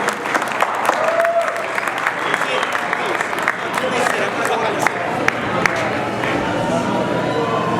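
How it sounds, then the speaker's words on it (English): Sustained audience applause at an awards gala, dense clapping with crowd murmur and scattered cheers filling the room throughout, steady and fairly loud. "Let's give him a big round of applause."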